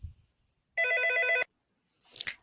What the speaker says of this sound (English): Dadgum phone.